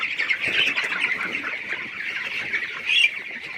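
Chickens squawking together on a poultry farm, a dense, continuous chorus of close, shrill calls with a louder burst near the end and no talking.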